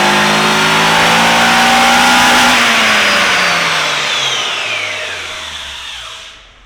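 A Nissan Silvia S15 Autech with an SR engine revs hard on a dyno, a loud climbing engine note that holds at a peak, then drops away and winds down to near silence at the end.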